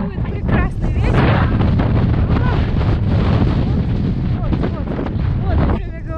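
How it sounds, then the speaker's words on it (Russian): Loud, steady hurricane-force wind on a beach in Anapa roars and buffets the microphone continuously, a heavy blustery rush with no pauses. "Будет прекрасный ветер."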